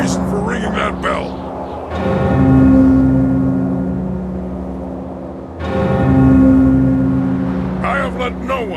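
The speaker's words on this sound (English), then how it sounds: "Sky better have a good reason for ringing that bell." A bell tolls in the Jade Empire video game, two long resonant strikes about four seconds apart, each ringing out and slowly fading over a steady game ambience.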